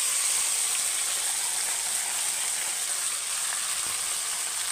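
Marinated chicken pieces hitting hot oil with bay leaf in the pan, a loud, steady close-up sizzle hissing throughout without speech.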